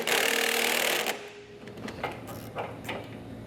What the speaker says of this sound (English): So now we're going to tighten and torque this bolt here to the subframe using a